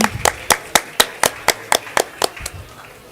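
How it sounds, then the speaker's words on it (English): Applause at a degree certificate distribution ceremony: roughly a dozen sharp, evenly spaced claps in a steady rhythm, moderately loud and close, with no talk over them. "Can we have a huge round of applause for your friends?"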